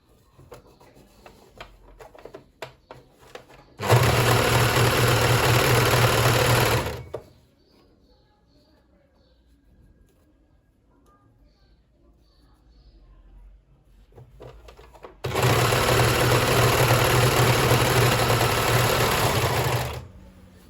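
Domestic sewing machine stitching elastic onto a dress, two loud steady whirring runs of a few seconds each separated by a quiet gap with faint handling noises.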